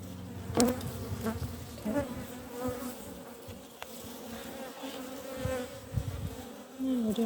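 Honeybees in an open hive box with every frame covered, giving a steady close buzzing drone with occasional individual bees passing near, continuous throughout at a moderate level.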